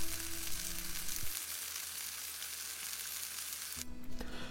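Chicken satay skewers sizzle steadily in a hot pan, a broad continuous frying hiss with a low hum beneath and a brief clatter near the end.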